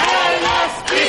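Protesters shout chants in unison at a party-list press conference, a loud, continuous crowd roar of raised voices filling the whole moment without a break.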